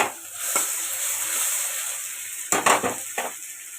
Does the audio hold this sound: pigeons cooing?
no